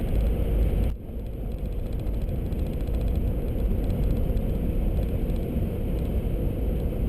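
Car cruising on a highway near the Wisconsin border west of Lake Michigan, a steady broadband road and engine roar heard from inside the vehicle, loud and constant, with a brief dip near the start and no talking.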